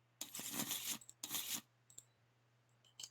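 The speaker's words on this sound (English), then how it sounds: "But also, I gotta shuffle these cards." Kingdom Hearts Talisman board game cards being shuffled, two quick papery riffling bursts close by, followed by a few faint clicks and taps against a quiet background.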